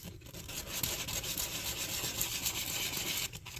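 Coarse 100-grit sandpaper is rubbed briskly over a metal surface in a repair, a close, continuous rasping scrape with quick back-and-forth strokes and no talking.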